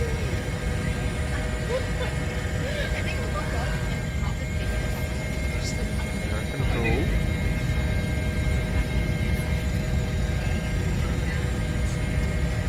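A Bell 412 helicopter's engines run inside X-Plane 11 as a constant turbine whine and rotor hum, steady and moderately loud, with faint clicks over the top.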